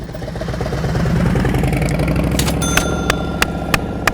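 A motorcycle engine lugs and chugs at too-low throttle during slow-speed riding practice, with an uneven pulsing rumble, followed by a series of sharp metallic clicks or dings toward the end.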